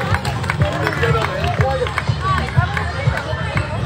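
A crowd at a school annual picnic claps in a steady, rhythmic beat, amid general crowd babble, with a voice talking over it.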